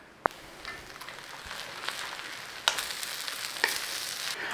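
An Asian-style stir fry with sesame oil sizzling quietly in a pan, a low steady hiss with scattered small clicks and taps of a utensil, no speech.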